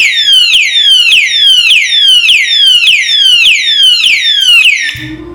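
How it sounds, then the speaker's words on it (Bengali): A security alarm lock sounds loudly and close up with a rapid repeating electronic siren sweep, about eight identical falling wails in a row before it stops abruptly near the end. "3বার শব্দ হওয়ার পরে যদি আপনি 2য়বার টান দেন বা লাগান তখন কিন্তু অ্যালার্ম বাজবে"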